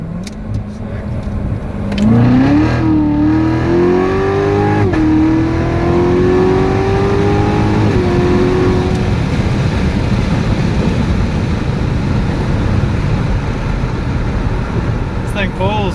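A stock 2016 Corvette Z06 accelerates hard from inside the cabin, its engine note climbing loudly through the gears and then holding a sustained roar, with people talking over it.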